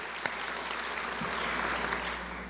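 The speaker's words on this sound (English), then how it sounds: "another round of applause." Steady crowd applause from an audience at a Let's Move rally in Jackson, Mississippi, a dense wash of clapping holding throughout with one sharp clap near the start.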